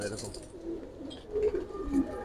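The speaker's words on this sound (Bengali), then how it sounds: "এটা ভাই একটা লাল জিরা গলা কবুতর" Soft, low cooing from a red jira-neck pigeon, a high-flying breed, repeats in a few close, rounded phrases over faint background noise.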